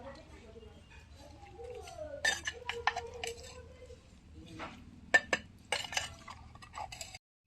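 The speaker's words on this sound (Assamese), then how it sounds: "এতিয়া মই ভালদৰে অলপমান লাৰিম" Mutton stirred in a cooking pot for a desi-style handi curry, with a utensil clinking and scraping against the pot in a few sharp bursts over a low background hum.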